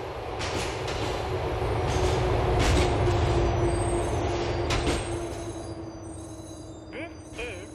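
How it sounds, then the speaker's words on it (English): A subway train in GTA4 pulls into West Park Station, its rumble and wheel noise rolling steadily at first, then easing off as it slows, with a faint squeal of wheels near the end. "The train is approaching West Park Station."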